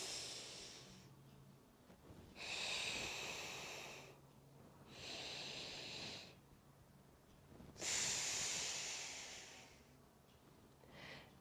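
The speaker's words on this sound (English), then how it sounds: "you need to block one nostril, inhale from one, exhale from the other" Slow alternate nostril breathing: three long nasal inhales and exhales, each a soft airy rush through the nose lasting about two seconds, close and quiet with brief pauses between breaths.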